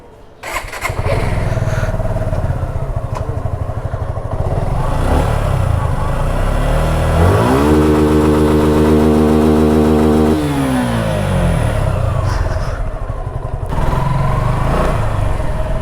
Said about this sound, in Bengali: তো বাইকটা একটু ট্রায়াল দেওয়া হচ্ছে